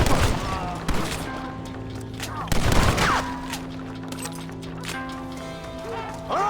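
Gunfire from a Red Dead Redemption shootout comes in sharp bursts over a tense music bed, with voices shouting between the shots.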